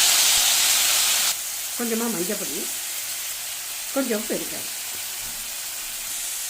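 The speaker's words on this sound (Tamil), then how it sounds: "இது எண்ணெயில் நல்லா வதக்கின்றேன்." Chopped tomato fries in coconut oil with turmeric and asafoetida, giving a steady loud sizzle and hiss that eases after the first second and then carries on under someone speaking.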